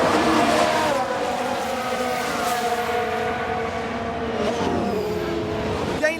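Alfa Romeo Formula 1 car engine in the F1 Manager 2022 racing game, a steady high-pitched whine with shifting harmonic tones that hold loud and continuous throughout, as if trailing close behind the car.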